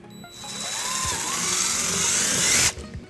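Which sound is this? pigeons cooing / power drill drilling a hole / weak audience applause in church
power drill drilling a hole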